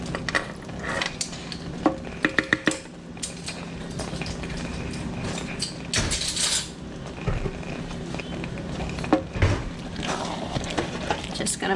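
Apple pie filling with apple cider vinegar being stirred, off the heat: repeated scraping and clinking of a utensil against the pot, uneven and close, with several sharp taps.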